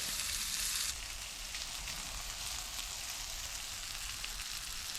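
Food sizzling steadily in a pan over lower heat at an outdoor ice-fishing spot, a soft continuous hiss and crackle, fairly quiet throughout with no voices.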